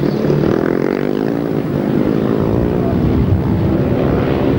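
Motorcycle engines roar continuously at a 1994 grasstrack race, a dense, loud, steady drone of several bikes close by with no talk over it.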